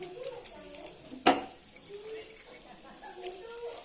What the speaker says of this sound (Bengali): হিংটা একটু ভেজে নেব।